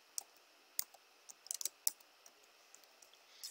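Quick, irregular clicks of keys on a computer keyboard as a password is entered, a light scattered patter of taps with short pauses, close and alone with no talk.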